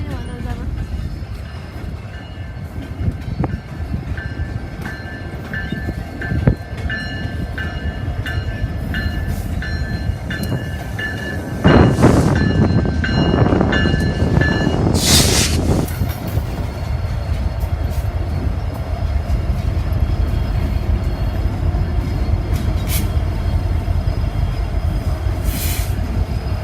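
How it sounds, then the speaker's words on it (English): A long coal train rolls steadily past close by, its continuous wheel rumble and car clatter running the whole length, with a brief louder burst partway through and some faint background voices. "Another coal train. It's like rapid fire. They just keep coming."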